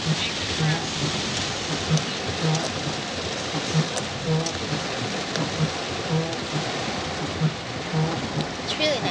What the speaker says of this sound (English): It hasn't rained in a very long time.